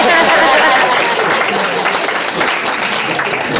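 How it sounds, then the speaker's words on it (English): Audience applause fills a comedy show, dense and loud clapping sustained throughout with a murmur of crowd voices underneath. "Start clapping."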